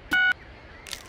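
Phone keypad tones from LEGO City Undercover as a number is dialed: a loud, steady electronic dial tone about a quarter second long, followed by a faint soft rustle and blip.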